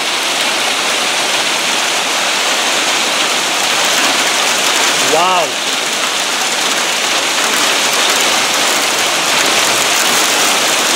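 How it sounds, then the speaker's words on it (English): A heavy rain and hail storm roars as a dense, steady downpour, loud and close for the whole stretch, with a brief exclamation from a man midway. "Hail."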